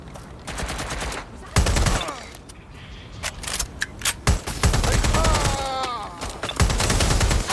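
Gunfire in the video game Watch Dogs Legion: close, sharp bursts and single shots in an uneven pattern, with a loud volley near the middle and game voices calling out in between.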